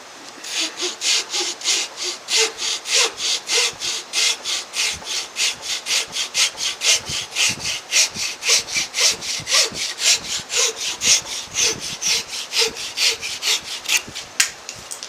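A handsaw cuts the end off a wooden multiscale guitar fretboard, steady back-and-forth rasping strokes in an even rhythm, close and loud, with no talking.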